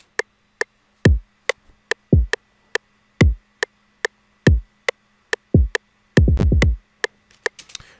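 Programmed kick and snare pattern in FL Studio 12: steady sharp clicks with punchy low kicks landing in a regular beat, ending in a quick rapid-fire roll of repeated hits, loud and alone with no voices.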